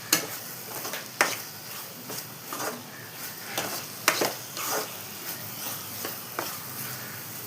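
Ground masala paste stirred into frying tomatoes for a spicy Thanjai-style mutton masala gravy, with a steady sizzle under repeated scraping stirs and a few sharper clinks of the spoon against the pan.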